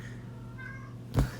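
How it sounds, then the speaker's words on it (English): A house cat meows once, a short close call rising near the end over a quiet steady hum of background noise. "you could probably hear my cat in the background"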